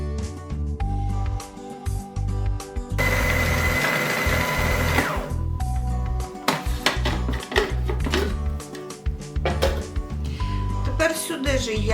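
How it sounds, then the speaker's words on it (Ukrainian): A blender's loud motor whirs in a sustained burst of a few seconds, blending cherries, plums, raspberries and sugar, with clattering and rattling noises and some mechanical sounds around it. "І все це я проб'ю блендером"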